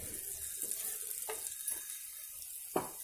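Milk burelu, sweet dumplings, fry in hot oil with a constant close sizzle, broken by a few brief louder bursts of bubbling and stirring.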